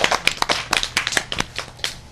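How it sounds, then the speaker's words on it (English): A small study group gives a short round of clapping, a few distinct close hand claps in an uneven rhythm, sparse and light, with no talking over it. "Give her a little clap."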